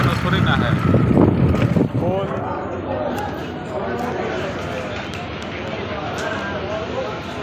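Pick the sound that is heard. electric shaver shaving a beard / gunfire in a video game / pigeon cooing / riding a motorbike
riding a motorbike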